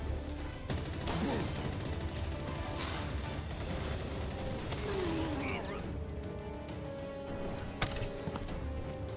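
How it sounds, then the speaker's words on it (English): Gunfire in the video game Palworld, with rapid bursts of shots and mechanical clatter over busy game music and effects, fairly loud and continuous with a few sharper cracks. "Stop shooting me, Dilbert."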